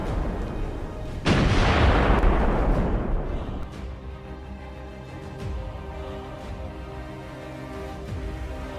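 Olifant tanks and artillery open fire together in a sudden heavy boom, followed by a long rumbling roll of blasts and echoes that slowly fades into a low, continuous din.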